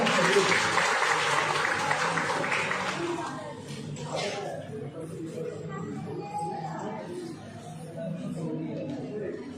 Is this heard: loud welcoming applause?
yes